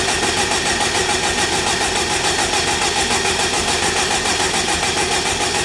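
A forged, turbocharged Honda K20 engine in a buggy runs loud and close, with a steady dense roar and fast rhythmic pulsing throughout. No voices are heard.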